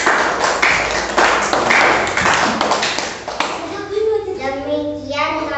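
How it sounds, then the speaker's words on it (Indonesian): A classroom claps for a student group after its presentation: a burst of loud, close, scattered clapping that fades after a few seconds as a voice begins speaking. "Tepuk tangan dulu untuk kelompok 3"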